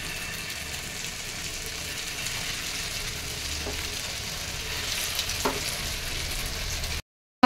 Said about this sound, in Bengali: সব ব্রেড রোল কটাই আমার বানানো হয়ে গেছে। এবার আমি গরম তেলে এগুলো দিয়ে দেবো।